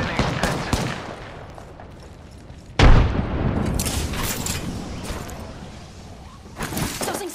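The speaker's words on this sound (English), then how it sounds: "Throwing thermite grenade." A thermite grenade is thrown and bursts in the Apex Legends video game, landing as one heavy, loud boom partway through amid a dense wash of gunfire and battle noise.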